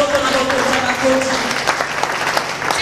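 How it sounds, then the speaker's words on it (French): Church congregation applauding together during a French-language worship service, a steady wash of clapping from many hands that holds at an even, fairly loud level throughout, with voices mixed in beneath. "On acclame le roi des rois."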